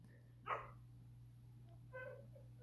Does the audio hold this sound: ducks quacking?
no